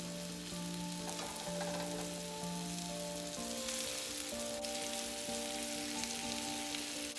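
Meat frying in olive oil in a hot skillet over medium-high heat, a steady close sizzle that runs unbroken under a quiet background music tone.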